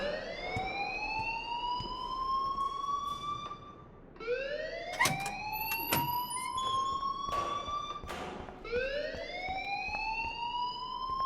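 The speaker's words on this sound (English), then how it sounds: "please turn off that alarm since that's your job" A fire alarm wails in the Life Is Strange video game, a loud rising electronic siren that repeats in sweeps about every four seconds, with sharp clicks and thumps under it.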